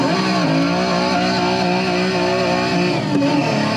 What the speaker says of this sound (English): when you just rev it up and drop the clutch, and it just feels like you're driving a real car